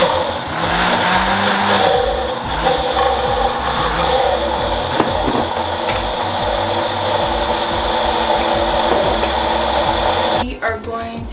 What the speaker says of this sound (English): And now we're just gonna fully blend